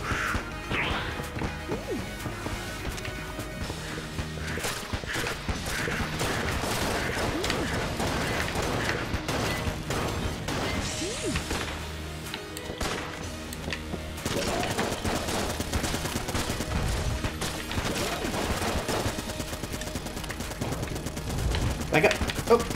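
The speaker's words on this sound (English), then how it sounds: "Keep shooting at him." Gunfire from Enter the Gungeon: dense rapid volleys of shots and crashing impacts fire almost continuously, loud and busy throughout, with brief lulls between bursts.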